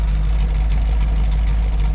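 A 1974 Ford Bronco engine idles steadily after its first start in 16 years, a loud, close, continuous low rumble with no talking.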